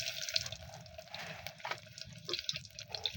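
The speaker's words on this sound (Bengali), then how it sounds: "তেলটা গরম হয়ে গেছে দিয়ে দিচ্ছি ছোট সাইজের একটা পেঁয়াজ" A small onion dropped into hot oil in a cooking pot gives a steady, bright sizzle and crackle that holds throughout, with no talk.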